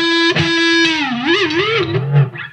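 A loud distorted electric guitar note holds steady, then swoops downward in pitch with a wobbling, growling dive before trailing off.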